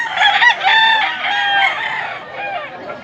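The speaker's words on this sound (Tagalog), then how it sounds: "Gandang manok." A gamecock stag crows loudly and close by in Mantalungon, Cebu, one long drawn-out call that wavers and fades toward the end.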